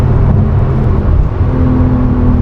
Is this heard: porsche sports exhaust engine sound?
yes